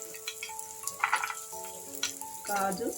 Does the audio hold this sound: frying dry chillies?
yes